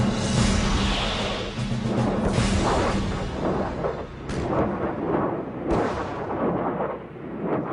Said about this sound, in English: One of their key weapons was the multiple launch rocket system.